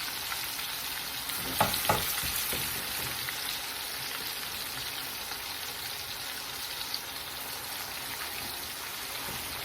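Pork chops fry in a pan with a steady sizzle filling the whole stretch, a bright crackling hiss with a few louder pops and spatters near the start.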